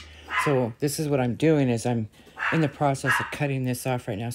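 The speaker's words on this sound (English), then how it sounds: "Sorry about my dogs." Dogs bark and yip repeatedly in a home workshop while someone talks over them, the barks coming in short bursts mixed closely with his voice.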